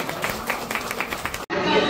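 Applause at a naming ceremony game: a burst of rhythmic clapping from a small crowd with voices over it, cut off briefly before a brighter noisy hiss resumes.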